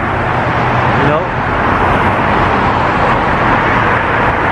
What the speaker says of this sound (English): Sorry about the noise of the traffic.